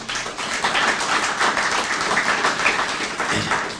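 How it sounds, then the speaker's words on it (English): Audience applause at a groundbreaking ceremony for a redevelopment project, a steady dense wash of many hands clapping together for about four seconds, fairly loud and even throughout. "Can we give them a round of applause?"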